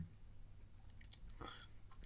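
Chicken meat being chewed, from a Japanese convenience-store handmade burger in Yokohama; soft close mouth sounds and a few faint crunchy bites over about two seconds, quiet with no talking.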